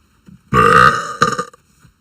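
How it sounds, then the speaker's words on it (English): A girl lets out one long, loud, drawn-out burp followed by a shorter second belch, with a faint murmur before and after. "There, guys. There's your burp."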